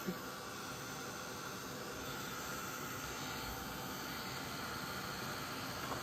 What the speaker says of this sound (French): Je vais juste passer un petit coup de heat gun.